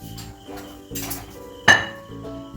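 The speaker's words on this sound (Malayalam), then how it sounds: "നമുക്ക് വേറൊരു പാത്രം ഇതിലേക്ക് ഇറക്കി വെക്കാം" A metal vessel is lowered into another pot on a gas stove with soft clatters, then one sharp ringing metallic clank near the middle, close and loud.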